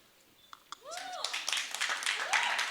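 Applause breaks out from a concert audience at a film music event on stage, with some cheering; dense clapping swells after a moment and continues steadily, under an amplified voice and a few whoops.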